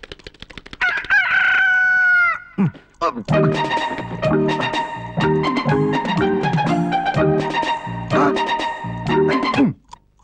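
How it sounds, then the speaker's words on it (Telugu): A rooster crows loudly and up close in a Telugu film scene, with one long crow near the start, followed by a run of repeated, harmonically rich crowing calls. "కోడి మోగింది"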